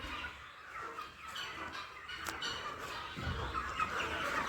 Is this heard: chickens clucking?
yes